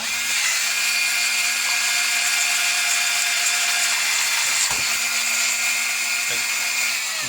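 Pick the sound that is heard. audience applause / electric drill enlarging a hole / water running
electric drill enlarging a hole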